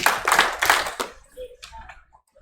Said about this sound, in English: You can hear my voice clap 3 times